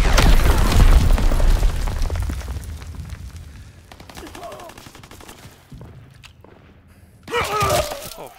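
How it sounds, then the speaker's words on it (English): Enemy mortar rounds explode in the Call of Duty WWII video game. A heavy, booming blast opens the clip and fades into quieter battlefield rumble and scattered impacts. A second loud burst of firing crashes in near the end. "Enemy mortar fire incoming."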